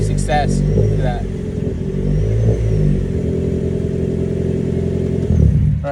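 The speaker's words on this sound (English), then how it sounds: "it's a hybrid, so we gotta test the actual internal combustion engine. So we're gonna hit the gas a little bit." A Toyota Camry hybrid's internal combustion engine revs up as the gas is pressed, a mid-pitched engine hum with rising tones and some clatter, heard close with a brief voice near the start.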